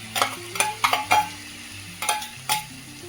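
Tomatoes with garlic-ginger paste sautéing in a pan, a spoon scraping and stirring in six distinct close strokes over a soft sizzle, with no talking.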